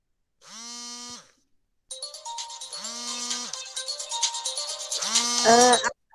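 A phone ringtone plays during an online group presentation: a short melodic tone, a pause, then a longer, louder run of electronic tones that rises in intensity before cutting off.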